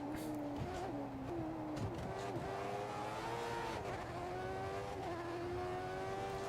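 Formula One race cars from the F1 2014 racing game scream past on track, several high-pitched engines whining and shifting in overlapping waves, with a steady rising tone near and loud throughout.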